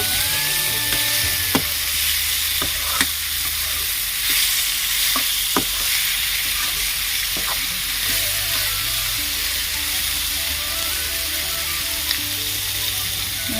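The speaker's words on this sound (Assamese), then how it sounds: "এতিয়া এইদৰে অলপ ভাজি ল'ব লাগিব।" Meat sizzles steadily in a hot pan, a dense continuous hiss with a few faint clicks of stirring, close and alone with no voices.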